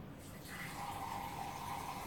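Water poured into a drinking glass, a steady rising trickle that starts after a brief pause and runs continuously, close and moderately loud, with no voices.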